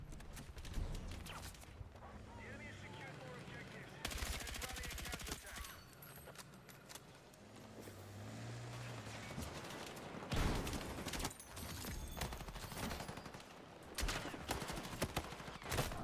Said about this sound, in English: I wish I wasn't shooting all the furniture out in the way on the desk.